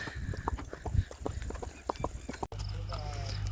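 Hooves of a ridden mare clip-clop in a quick, uneven rhythm on hard ground, close and steady, with a voice talking over the steps.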